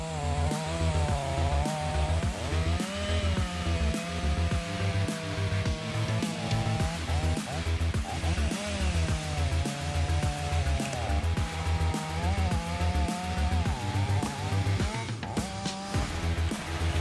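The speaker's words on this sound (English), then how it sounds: "modern chainsaw equipment come together, tough jobs like this become easy." A chainsaw cuts through a tree with a loud, continuous engine roar that rises and falls in pitch as it bites into the wood, sustained throughout without pause.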